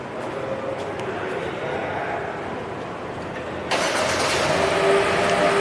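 A 2022 Hyundai Creta engine, started with a smart key push button, turns over and catches partway through, settling into a steady idle over background noise.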